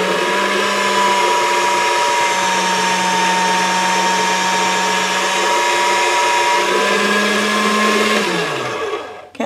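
Motorized pasta machine rolling a sheet of polymer clay at setting 2 for a basketweave cane, a steady close whirring hum with a constant drone that winds down at the end, no voices.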